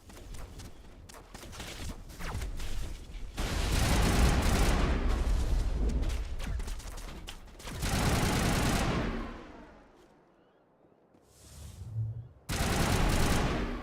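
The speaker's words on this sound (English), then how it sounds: "Cover fire." Gunfire in the Mass Effect game, loud sustained bursts of automatic fire and booming impacts that come in waves, falling nearly silent for a moment before another heavy burst.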